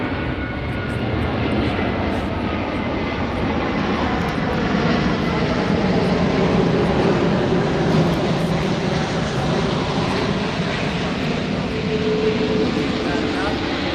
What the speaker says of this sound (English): Hey, I let this plane pass over.